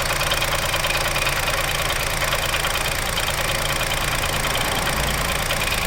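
Close, steady idle from a new Chevrolet Onix engine, carrying a persistent rattling knock throughout, with a brief low thump near the end and no voices.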